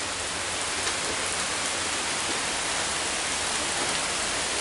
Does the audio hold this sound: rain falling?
yes